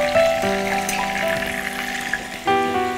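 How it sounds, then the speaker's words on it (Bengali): Potatoes frying in a pan with tomatoes, a steady close sizzle with faint watery crackle running throughout, steady hum tones under it and a louder burst near the end. "আলুটা বেশ কিছুক্ষণ ধরে ভাজতে হবে, যেন বেশ একটু উপরটা একটু ভাজা ভাজা হয়,"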